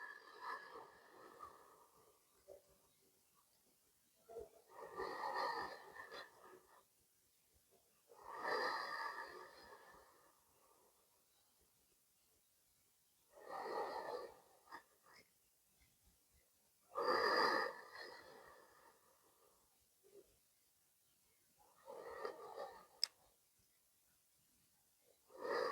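Slow, deep breathing during a full-body yoga stretch for athletes: long audible inhales and exhales come in steady waves every few seconds, close and soft, with quiet pauses between breaths and no talking.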